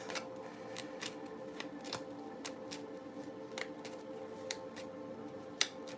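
Tarot cards are shuffled close up in a quiet room, giving a steady run of soft papery riffles broken by sharp snapping taps, with no talking.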